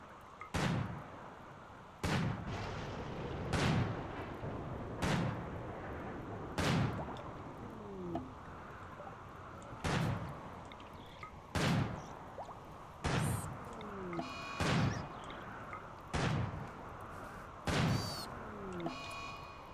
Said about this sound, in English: Let me see how good she is with this rifle now.